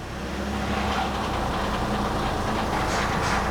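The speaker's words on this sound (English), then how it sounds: "It's making some very unhappy VVT noises." A Mini Cooper engine makes a steady, loud mechanical drone with a rattly, grinding texture from its variable valve timing (VVT), running continuously with no pauses.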